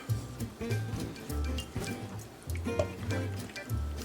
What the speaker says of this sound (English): And we'll give this a stir.